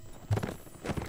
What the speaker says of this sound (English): There's another horse over here, I'm gonna secure that.